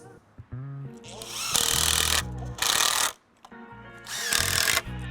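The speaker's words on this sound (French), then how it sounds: "Si vous avez la chance d'avoir une douille de 10, ça va plus vite qu'à la main." Power tool with a 10 mm socket drives screws while assembling a Baléo awning, with bursts of loud whirring and ratcheting separated by short pauses and lighter mechanical handling sounds.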